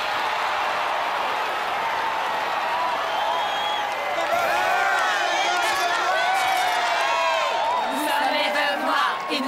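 A cartoon crowd cheers, whoops and applauds at a majorette championship, a loud, sustained roar with rising shouts throughout.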